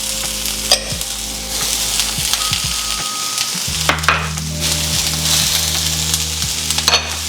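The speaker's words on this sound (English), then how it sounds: "So we're going to saute all of this." White onions and garlic sautéing in a pan for a vegan omelette, a loud continuous sizzle with several sharp scrapes and knocks of a utensil against the pan, no voices.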